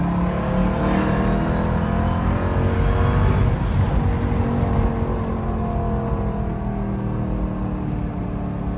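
A loud, close widebody Jeep Grand Cherokee Trackhawk engine drones steadily with shifting harmonic tones and supercharger whine as the revs rise and fall, no voices over it.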